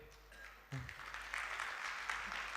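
An audience at the Vindhya Gaurav Samman 2025 awards event in Rewa breaks into brief, faint applause that swells after a quiet start, heard from a distance.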